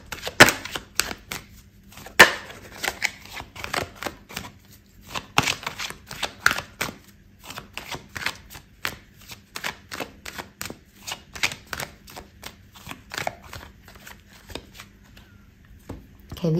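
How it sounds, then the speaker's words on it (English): Tarot cards are shuffled by hand up close, giving repeated crisp riffles and soft slaps in an uneven rhythm. "I'm going to pull out another card for you"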